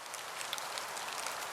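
Steady rain falls outside, heard as a soft, constant hiss with scattered faint patters of drops, alone and fairly quiet.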